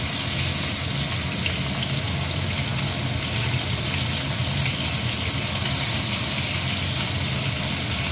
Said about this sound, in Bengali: এই মাছগুলো ভাজা হোক, আবার উল্টে দেবো।